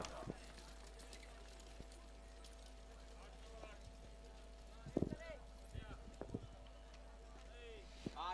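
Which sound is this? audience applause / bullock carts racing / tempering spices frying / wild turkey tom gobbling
bullock carts racing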